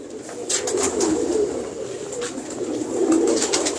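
Several pigeons coo steadily in a fancier's loft, a low rolling chorus of overlapping calls close by, carrying on without pause and with no talk over it.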